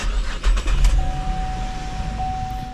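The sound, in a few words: 2015 Chevy Camaro engine starting with programmed key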